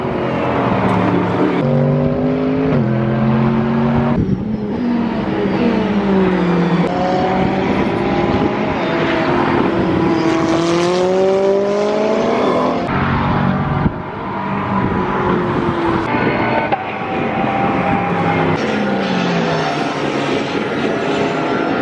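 British F3 and British GT race cars lapping the track on media day, loud high-revving engines screaming past one after another with rising and falling pitch as they pass, gear changes and overlapping engine notes filling the whole stretch.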